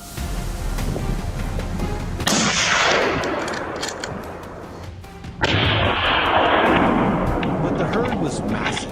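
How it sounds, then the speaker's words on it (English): Two heavy, booming gunshots a few seconds apart during a wild boar hunt, each followed by a long rumbling decay, with a voice talking beneath. "Gunshots cracked through the air, cutting down a few of them."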